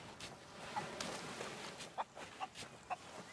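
A hen in Sea of Thieves gives several short, soft clucks in an irregular rhythm over quiet footsteps, close by and fairly faint.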